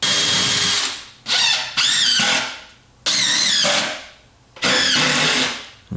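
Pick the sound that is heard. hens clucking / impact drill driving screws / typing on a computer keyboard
impact drill driving screws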